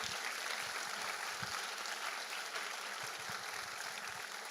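A church congregation applauds, a steady broad wash of clapping from many hands that holds at an even level throughout with no talk over it.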